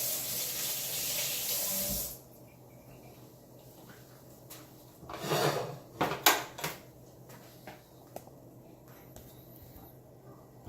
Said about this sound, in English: I'm gonna rinse that pork out.